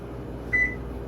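A microwave oven gives one steady electronic beep from its control panel as a timer is keyed in, a single clear tone about a quarter second long over a low hum of room noise.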